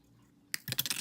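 Wire cutters snip off excess wire on a wire-wrapped wooden earring, a sharp click after a quiet pause, followed by a few small clicks and rattles of the tool and wire close by.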